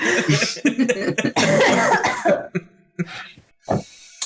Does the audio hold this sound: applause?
no